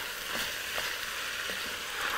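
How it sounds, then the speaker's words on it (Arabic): A large amount of onion sizzles in oil in a pan with a constant frying hiss, with a few soft stirring knocks over it, close, with no talking. "انا هزود زيت ونحط البصله"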